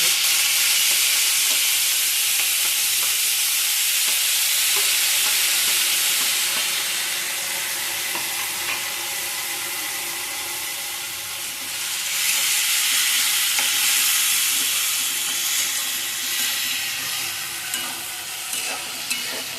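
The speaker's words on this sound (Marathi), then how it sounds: "कांद्याची पात आपण चांगली भाजून घ्यायची तेलामध्ये" Spring onion greens fry in oil with mustard seeds and cumin, a loud steady sizzle with stirring scrapes, close and continuous throughout, with no talking.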